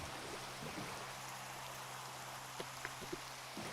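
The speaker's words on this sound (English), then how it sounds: "It's raining. The rain is really annoying." Steady rain falls in a VR video game, a dense even hiss with a few faint drips standing out near the end.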